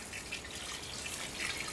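Water poured onto soil that is already saturated, in a Zeoplant soil demonstration: a steady, fairly loud splashing and trickling wash with no talk.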